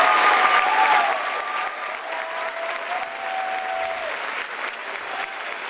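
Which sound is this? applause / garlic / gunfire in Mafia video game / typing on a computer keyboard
applause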